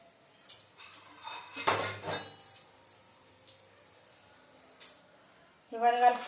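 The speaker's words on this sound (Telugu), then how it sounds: "పసుపు వేస్తున్నాం. ఇవన్నీ కలుపుకోవాలి." Turmeric and spices are mixed into vegetable pieces in a pan with intermittent clinks and scrapes of a utensil against metal. A brief voice comes in near the end.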